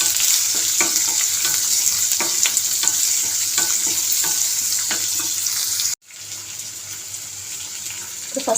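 Sliced onion sizzles in hot oil in a pan while a spoon stirs it, a loud steady frying hiss with scraping clicks that cuts out abruptly, then resumes more quietly.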